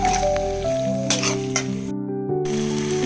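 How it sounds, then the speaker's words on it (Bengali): Taro greens stir-fry with spices in a kadai for a Bengali hilsa-head dish: loud hissing sizzle with clinks of a metal spatula against the pan, broken by a brief drop in the sizzle before it resumes. "এরপর আমি কচুর শাকগুলো দিয়ে দেব দিয়ে আমি সুন্দরভাবে মশলার সাথে কচুর শাকগুলোকে মিলিয়ে নেব"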